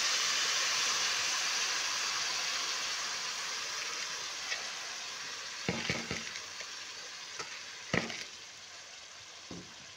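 Uncooked rice fries in a pan of browned aromatics, a broad steady sizzle that slowly fades, broken near the end by a few sharp scrapes and clicks of stirring.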